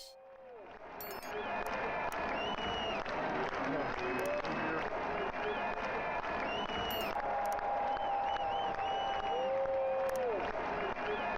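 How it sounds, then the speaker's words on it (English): Stadium crowd noise fills a Dodgers versus Padres baseball game broadcast, a continuous roar of applause and murmuring spectators, with whistles and scattered cheers rising above it. "put better crowd noise"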